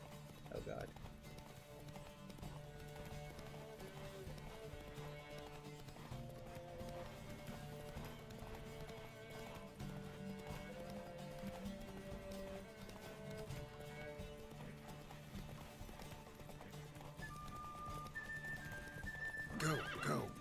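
Horse galloping with clip-clop hooves and whinnying in The Witcher 3 game, a steady fast rhythm under a continuous music bed throughout, with a louder burst near the end.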